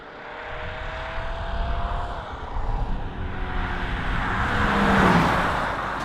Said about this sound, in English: I'm sure that by now you have heard the sound this V6 diesel makes